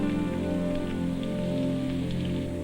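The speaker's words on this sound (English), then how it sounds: "there were bursts of rain that seemed determined to come through the tents" Steady, dense rain patters on taut tent fabric overhead, a constant close hiss with scattered heavier drops.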